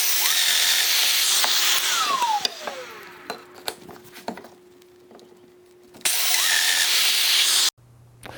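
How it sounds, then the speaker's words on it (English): A domino joiner plunges into a clamped wooden workpiece for a garden gate, cutting 6 by 40 mm mortises: two loud, sustained cutting bursts separated by quieter handling knocks and clicks, close by. "And now I'll cut 6 by 40 millimeter mortises for all of the vertical dominoes."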